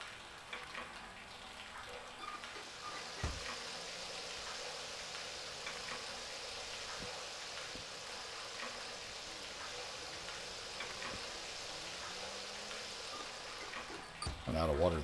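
Running water trickles in the cab of a steam locomotive in the Derail Valley train simulator, a steady hissing, sizzling wash that holds for the whole stretch with faint scattered clicks and a louder burst near the end.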